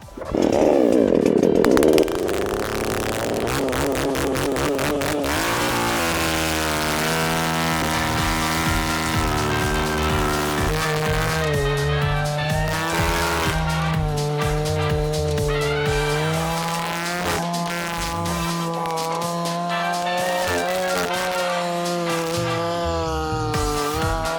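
Pro Craft GS 52P petrol chainsaw cutting oak firewood: a short sharp burst at the start, then a loud, steady, close-up engine drone under load that runs the whole time with no talking.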